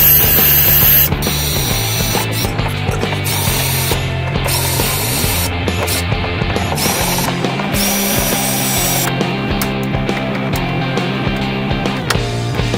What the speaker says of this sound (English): to drill out the top rivets off this hinge piece